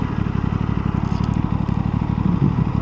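Engine of a 2026 Aprilia Tuono 457 motorcycle as it is parked, a loud, close, low rumbling idle with a fast steady pulse throughout.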